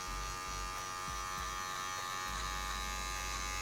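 Electric hair clipper fitted with a 1.5 guard buzzes steadily up close while cutting a fade haircut, one continuous motor drone with slight changes as it moves over the hair, no voices.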